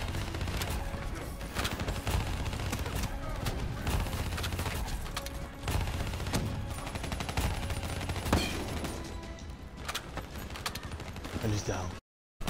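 Rapid bursts of video game gunfire crackle almost nonstop, with fast machine-gun volleys and louder single shots as an enemy is gunned down, fairly close and dense throughout.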